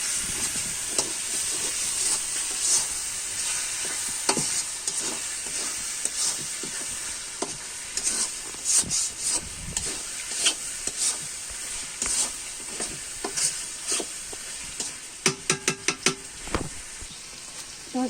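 Beef browns in a pan for kala bhuna with a steady, soft sizzle, broken by scraping stirs and a quick cluster of clicks near the end.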